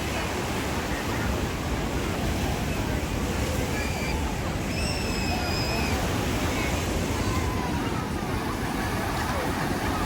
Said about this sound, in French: Regarde la hauteur des vagues.